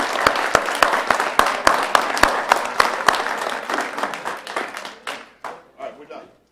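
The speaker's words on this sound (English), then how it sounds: "let's give them a big round of applause" A crowd applauds with dense, steady clapping that thins out toward the end into a few scattered claps.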